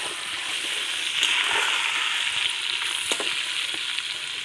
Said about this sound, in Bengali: আলুটা আমার ভাজা হয়ে গিয়েছে